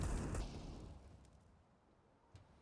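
A grenade bursts in Counter-Strike on the Nuke map during a professional match, a loud, deep blast at the outset that rolls off over about two seconds, followed by a faint small pop.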